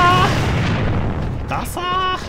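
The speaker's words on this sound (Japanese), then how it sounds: "手榴弾投擲、敵手榴弾。" Grenade explosion in the online shooter AVA: a loud, dense blast rumble fills the first moments and then fades into a lingering roar, with a voice speaking over the tail.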